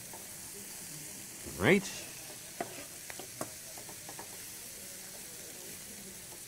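A quarter of a large onion frying in a pan: a soft steady sizzle, a sharp burst as it goes in, then a few light clicks from stirring, with one brief spoken word.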